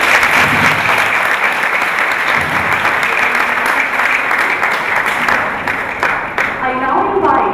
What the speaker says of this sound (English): A big round of applause for Dr. Corbett.